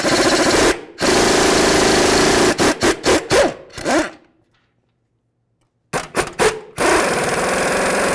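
A power tool fitted with a 21mm socket works the front control arm mounting bolts on a 2007-2012 Nissan Sentra, roaring in loud sustained runs and short stuttering bursts with a brief silent pause between.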